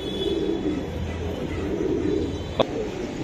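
Giribaj and pankhi racing pigeons coo in a loft in Old Dhaka, a steady low murmur of overlapping calls close by with one sharp brief click near the end.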